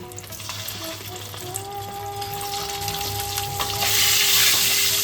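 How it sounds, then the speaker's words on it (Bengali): Eggs frying in hot oil in a pan with turmeric and salt make a loud, steady, close crackling sizzle that swells stronger toward the end, with no talk. "ডিমগুলোকে একটু লাল করে ভাজতে হবে"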